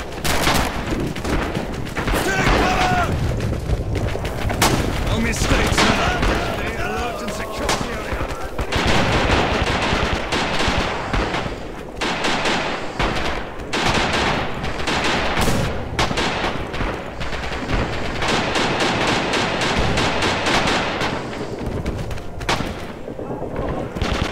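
Gunfire in Red Orchestra 2: Heroes of the West, dense and continuous with rifle shots, machine gun bursts and booms overlapping throughout, close and loud, while voices shout over it.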